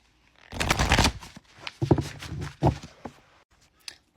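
A deck of tarot cards being shuffled up close, a long riffling burst followed by several shorter flutters and taps, with no talking.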